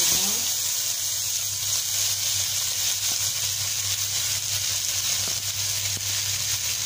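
Sliced onions hit hot oil where mustard seeds have already popped, setting off a steady, bright sizzle with faint crackles and a low background hum throughout.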